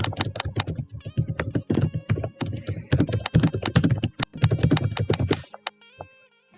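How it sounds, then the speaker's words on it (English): Loud, rapid typing on a computer keyboard, dense bursts of close key clacks with brief pauses, ending in a few faint electronic tones. "Loud typing."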